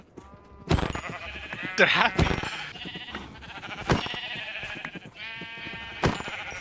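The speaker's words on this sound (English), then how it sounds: "There's a lot of sheep here." Sheep in the video game Minecraft bleat several times in short, clear calls close by, while someone talks over and between them.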